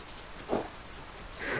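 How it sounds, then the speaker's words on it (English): Steady rain falls at a backpacking campsite, a soft continuous hiss with faint patters close by. "So I just got to camp and it's raining"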